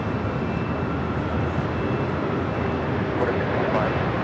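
Hawaiian Airlines Airbus A330-200 on Flight 9 to Honolulu at Los Angeles airport, a loud continuous jet engine roar, broad and steady with no pauses, while a voice talks over it.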